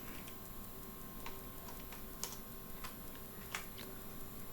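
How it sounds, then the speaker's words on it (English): A computer keyboard gives a handful of sparse, light key clicks at an irregular pace over a steady faint hum, close up and quiet. "I will type something over here like"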